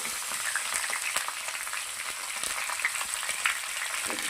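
Chicken pieces going into a hot pot of oil and cooking, giving a steady close sizzling hiss that runs throughout, with small crackles and spits scattered on top.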